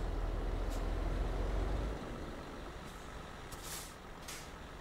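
Truck rumbling in Euro Truck Simulator 2, a heavy steady engine drone that drops back after the first two seconds, with a few short hissing air-brake bursts near the end.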